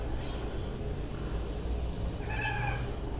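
A cat gives a single clear meow near the end, heard over a steady low background hum with no speech.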